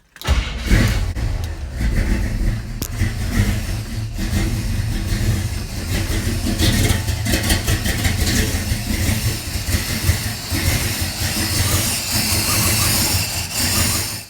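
A 1967-72 Chevy truck engine, newly fitted with fuel injection, starting and running loudly and steadily throughout, a deep rumbling idle with some rattling, no voices.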